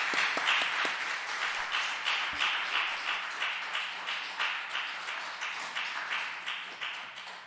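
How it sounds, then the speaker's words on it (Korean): A church congregation applauds during a Sunday worship service, a steady wash of many hands clapping that holds evenly for several seconds and then thins slightly toward the end, with no voices over it. "다시 한번 박수 드립니다."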